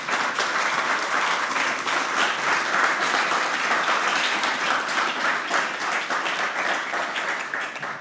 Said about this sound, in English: Could we give a round of applause to Chris?